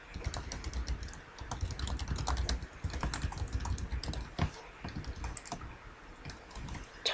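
A computer keyboard clatters with rapid, uneven keystrokes as a board post is typed, close and quiet, continuing steadily with brief pauses and no voices.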